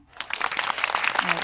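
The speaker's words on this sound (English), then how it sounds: "let's have a round of applause to Berlin" A short round of applause from students in a classroom, rising quickly into a dense patter of many hands clapping together.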